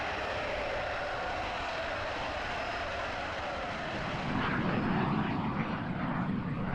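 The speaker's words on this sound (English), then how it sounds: "20 of his F-84 Thunderjets, line up on the runway at Sola Air Base, southwestern Norway" F-84 Thunderjet jet fighters lined up on the runway at Sola Air Base in southwestern Norway, a steady, loud engine roar that swells slightly toward the end.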